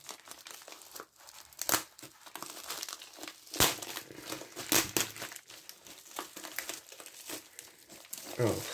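Wrapping on a newly arrived package crinkles and tears as it is opened during an unboxing, in loud close bursts of crumpling with short pauses between.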